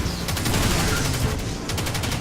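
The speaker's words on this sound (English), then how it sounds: "I should be using that submachine gun. And just never stop pressing the fire button." Submachine gun fire in the video game Destiny 2: a dense, continuous burst of rapid automatic shots, loud and close, with a brief dip partway through before firing resumes.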